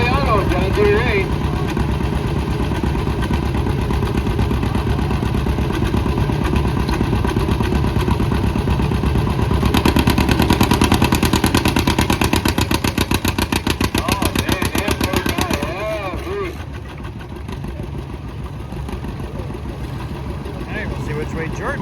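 An antique John Deere tractor engine pounds with a rapid, loud putt-putt beat during a tractor pull, surging louder midway and then easing, while voices talk over it.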